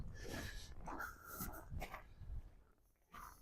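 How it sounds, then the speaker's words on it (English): A dog out on a winter walk through community gardens in Regina gives short snorts and whimpering breaths, fairly close and fairly loud over outdoor background noise, with no talking. "There's our first dog and owner."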